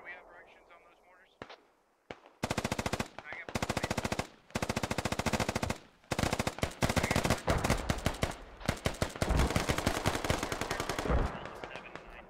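Rapid automatic gunfire from a Squad Ops squad shooter video game rattles out in loud, dense bursts. After a quieter start, it runs almost nonstop with brief gaps between volleys.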